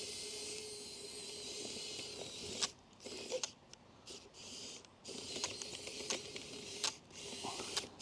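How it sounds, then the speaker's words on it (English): A hydraulic RC excavator travels on its tracks over rocky ground, giving a faint, busy whirring and clattering that stops briefly and starts again several times. "Next, we'll test the travel speed of the hydraulic excavator."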